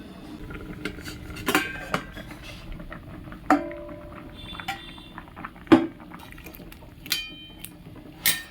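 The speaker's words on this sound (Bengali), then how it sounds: "ঢাকা দিয়ে দেবো ও গ্যাসের আঁচটা কমিয়ে দেবো।" Metal lid set onto a cooking pot on a gas stove, a few sharp clinks and clatters of metal against metal spaced apart, with a quiet simmering background and no talking.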